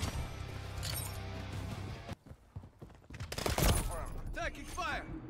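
Call of Duty MW3 multiplayer gunfire crackles in bursts, loud at the start and again later, with a brief lull between, mixed with clinks, game effects and voices.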